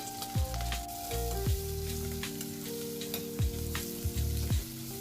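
Garlic and vegetables fry in a pan, lightly roasting before chicken goes in: a continuous close sizzle broken by brief stirring scrapes, with no talking.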